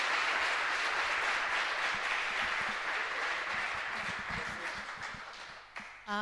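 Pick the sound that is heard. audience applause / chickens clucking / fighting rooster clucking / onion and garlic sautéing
audience applause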